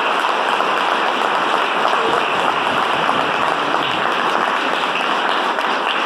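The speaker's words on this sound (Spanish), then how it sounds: "les pido un fuerte aplauso para él, para su esposa" An audience claps in sustained, dense applause at a business corporation testimonial event, a steady crowd of hands filling the whole stretch without pause.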